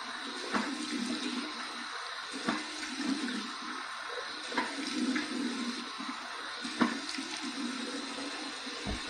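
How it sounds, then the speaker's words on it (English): Warm running water from a tap for a rinse after a shave, a steady gushing and splashing stream with occasional louder splashes, moderately close and without talk. "Here's my warm water rinse."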